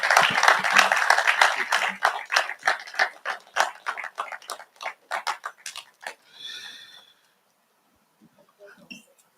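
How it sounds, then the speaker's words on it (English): Loud applause with rapid clapping for a speaker at a Sterling Leadership Series event in Nigeria, strong at first then thinning into scattered claps and fading out, a few faint sounds after. "Please, one more time, can we give Mr. Sim Shagaya another round of applause"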